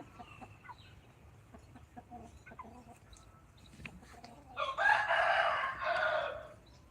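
Chickens in a rural Surin yard, with faint scattered clucks early on, then a loud rooster crow rising close by and holding for about two seconds before trailing off.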